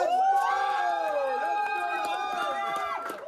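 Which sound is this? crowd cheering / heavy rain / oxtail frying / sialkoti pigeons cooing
crowd cheering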